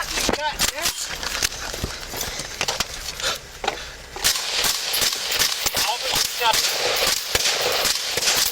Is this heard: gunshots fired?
yes